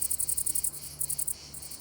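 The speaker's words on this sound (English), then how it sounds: "It's bush crickets inviting everyone to a concert." High, buzzing chirps of two male great green bush crickets in fast pulsed trains, close and clear, with brief pauses between bursts over a quiet low hum.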